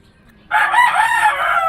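A rooster crows once, loud and close, a drawn-out ringing call starting abruptly over a faint low background.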